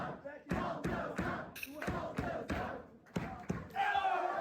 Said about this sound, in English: O público a puxar por Baltazar